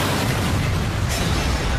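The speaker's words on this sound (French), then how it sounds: "Une voiture a explosé dans un parking sur les locaux du consulat de Turquie." A car bomb detonates in a parking lot at a Turkish consulate, a dense, sustained roar of broadband rumble and blast noise filling the whole stretch, loud and close, with no voices.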